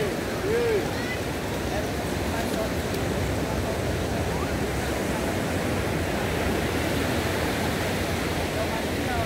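Sea waves wash onto the beach at Praia do Forte in Cabo Frio, a steady, loud, dense surf roar that continues unbroken without pause.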